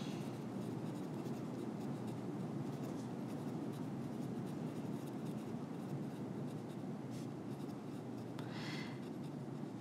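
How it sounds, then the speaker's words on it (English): Marker writing on a board during a classroom lecture on metabolism and enzymes, a steady soft scratching and rubbing that continues faintly throughout, with no talking. "I'm going to write over here."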